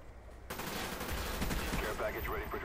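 Automatic Enfield rifle fire in Black Ops 2 on the Summit map, a sustained burst of rapid shots starting suddenly and continuing loud and close, with a voice speaking briefly over the shooting.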